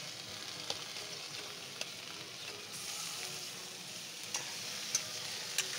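Boiled pork sizzles steadily as it fries in a pan, with occasional sharp crackles and pops above the continuous hiss and no voices.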